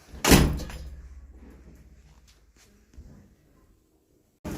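A door shuts with a single loud, close thud and a short rattling decay. Faint movement follows, and there is a clipped voice or bump at the very end.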